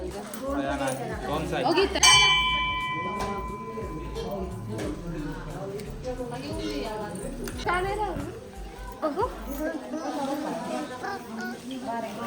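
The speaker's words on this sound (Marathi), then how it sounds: "घंटी वाजवून" A single bright ring of a small bell rings out briefly and fades, while people talk throughout, including a voice.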